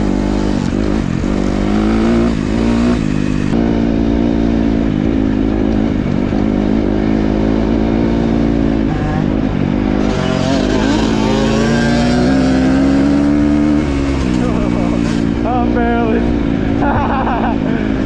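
Brand-new 2026 Kawasaki KX 250 dirt bike ridden for the first time, its engine loud and close, rising and falling through revs with a steady drone and wind noise, with a rider talking over it.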